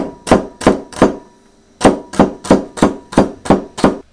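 A knife dices celery on a wooden board, three quick cuts, a short pause, then seven more evenly spaced strikes, close and crisp.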